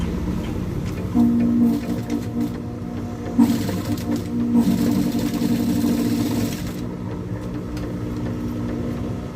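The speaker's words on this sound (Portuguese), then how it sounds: "E uma costura de um pé de máquina." A sewing machine stitches a seam on a double pencil case, running in short bursts of rapid mechanical whirring and clatter, with brief pauses between runs.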